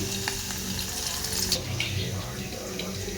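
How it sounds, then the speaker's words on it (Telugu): Coriander and garlic paste hits hot oil in a home kitchen, giving a steady, close frying sizzle with faint watery crackle throughout, a brief brighter burst midway, and no talk. "కొత్తిమీర వెల్లుల్లిపాయ దంచి పెట్టుకున్నాను అది కూడా వేసుకుంటున్నా"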